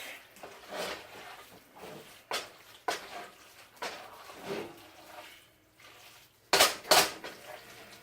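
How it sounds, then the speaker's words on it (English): Ground beef chili mac is stirred in a pot with a utensil, producing irregular wet squelching scrapes with a few louder metallic clanks near the end, close up and without talk. "we're going to go ahead and give this a little stir"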